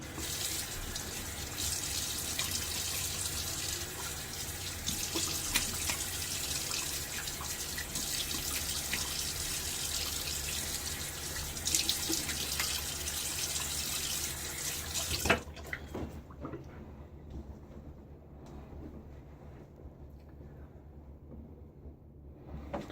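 Running tap water pours steadily into a sink for a rinse during a wet shave, a loud continuous splashing stream that cuts off abruptly, leaving faint drips and handling sounds.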